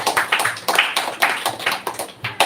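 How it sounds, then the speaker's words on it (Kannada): Hand clapping from an audience at a live community event with games and prizes, a fairly loud, uneven patter of claps that swells in bursts throughout, with no talking over it. "ಜೋರಾಗಿ ಕೈ ಚಪ್ಪಾಳೆ ಬರಲಿ ನೋಡುವ."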